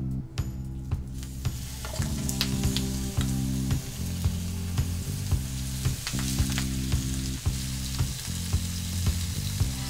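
Barramundi fillet seasoned with salt and pepper sizzles steadily in a hot pan, a continuous crackling fry with small pops, heard alone over background music.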